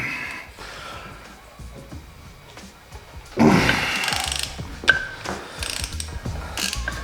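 A half-inch breaker bar works a tight 22 by 1.5 bolt torqued to about 144 foot-pounds on a third-generation KLR motorcycle, giving a sudden loud metallic crack and ratcheting grind followed by a few clicks, close and without talk.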